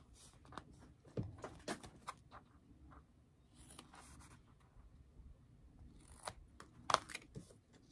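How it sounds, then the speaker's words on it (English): Scissors snipping small 1 inch squares out of fabric, several sharp crisp cuts with scattered quiet handling rustles between them, close and faint, with no talking. "So we're just going to cut our little 1 inch boxes out of the sides"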